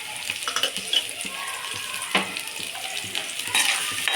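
Onions fry in a generous amount of oil while being stirred, giving a steady close sizzle with irregular scraping and stirring clicks throughout, and no talking.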